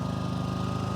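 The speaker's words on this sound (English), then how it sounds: "Fires right up. Air compressor is running." Air compressor in a low profile detailing setup running steadily, a loud close rhythmic motor chug with fast repeating pulses and no talking.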